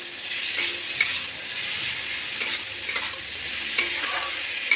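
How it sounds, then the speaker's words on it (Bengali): Potatoes and onions fry in oil in a pan for a bitter gourd dish, a continuous loud sizzle with soft scraping stir strokes every second or so, no voices. "আলুগুলো ভালো করে ভেজে নিতে হবে।"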